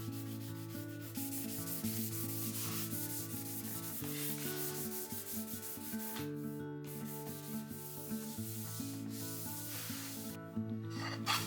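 A sander works steadily along the live edge of a low table made from roughly 200-year-old Kiso cypress, giving an even, continuous rasping rub close by while music plays underneath.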